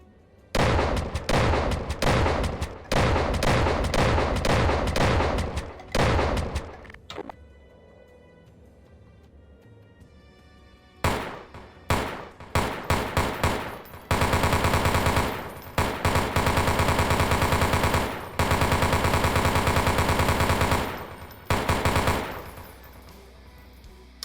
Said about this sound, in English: they fully completed and polished our shotgun and machine gun animations